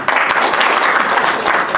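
Crowd applause at an outdoor political meeting in Sahebganj's Aratbazar, where a town development council was formed: loud, dense, continuous clapping from many hands, close and alone.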